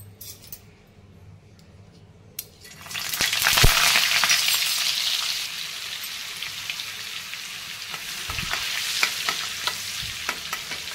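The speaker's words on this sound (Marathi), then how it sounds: "आता तव्यात तेल टाकलेलं आहे। आता आपल्याला त्यामध्ये बटर टाकायचं आहे।" Butter added to hot oil on a griddle bursts into loud sizzling and crackling after a quiet start, settling into a steady fry with scattered pops and spatters, no voices.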